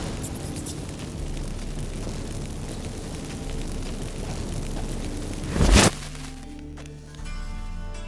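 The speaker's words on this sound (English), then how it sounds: "Get ready for some magic fireworks." Magic fireworks from activated incense in The Witcher 3, a sharp bright burst near the end that flares loudly for a moment over a steady game ambience rumble.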